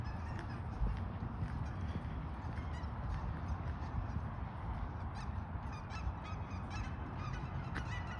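Outdoors, ducks give honking calls over a steady wash of ambient noise, moderately distant and fairly faint, with no talking.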